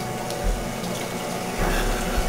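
Water from a running shower hisses in a steady broadband wash, growing slightly louder and fuller partway through.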